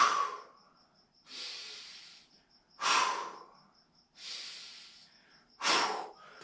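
Three slow, deep breaths during a wall exercise, each a loud, breathy inhale followed by an exhale, close to the microphone, with a faint steady tone in the background.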